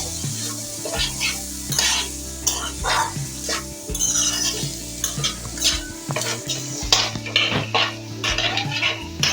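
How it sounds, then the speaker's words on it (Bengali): A spoon stirs cumin, coriander and chilli powder into mixed vegetables in a pan, with repeated scraping and metallic clatter over a steady sizzle and a low sustained tonal hum. "ভালোভাবে ওটা আমি মিক্স করে নেব"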